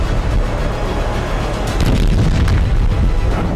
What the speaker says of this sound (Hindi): गाजा में शुक्रवार को कई धमाके हुए।